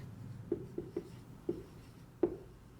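Pen writing a journal entry on paper, a few short close taps and strokes spaced irregularly in a quiet room.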